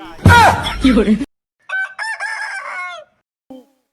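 A person imitates a rooster crowing: a burst of speech, then a drawn-out, wavering cock-a-doodle-doo call, followed by a short extra note.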